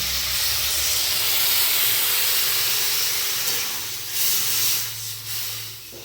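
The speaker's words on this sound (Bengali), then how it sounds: "দশ মিনিট ঢাকা দিয়ে সেদ্ধ করে নেব।" Covered pot of squash and shrimp in water with turmeric and salt boiling steadily, giving a loud continuous steamy hiss that eases slightly toward the end.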